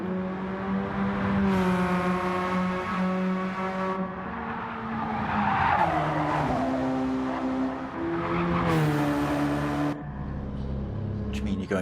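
In a racing video game, race cars slide through slow corners at Circuit de Sainte-Croix. Loud, shifting engine whines rise and fall over brief tire squeals and skids, while voices talk over the racing.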